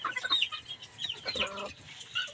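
A hen wandering about gives a run of soft, close clucks and short chirpy calls over quiet farmyard background, with no talk.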